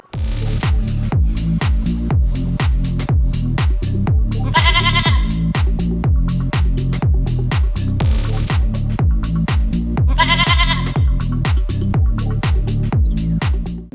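Goats at a busy cattle market in Karachi ahead of Eid ul-Adha, with a dense rhythmic pulse throughout and two loud, wavering bleats rising above it, continuous and close.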